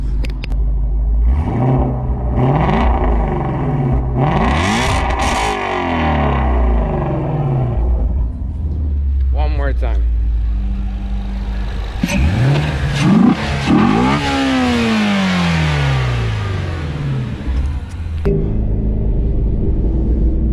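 A 2019 Ford Mustang Shelby GT350's V8 revs repeatedly in loud bursts, rising and falling sharply, heard up close from inside the car; a voice speaks briefly.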